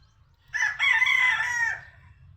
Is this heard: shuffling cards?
no